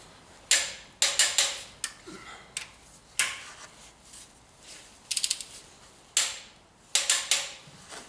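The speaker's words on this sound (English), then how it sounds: "So I'm just torquing these down now to 65 foot-pounds." Torque wrench tightening Land Rover engine bolts to 65 foot-pounds during an engine swap, heard as sharp clicks in short separate bursts, close and clear with no talk.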